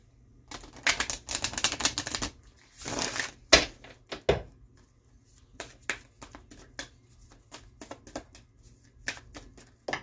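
Cards from a Mystical Shaman Oracle deck being shuffled in quick bursts of riffling and slapping, with short pauses and a few softer taps between, close and clear with no talk.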